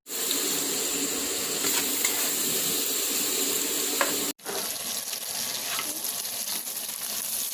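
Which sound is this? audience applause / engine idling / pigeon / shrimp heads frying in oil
shrimp heads frying in oil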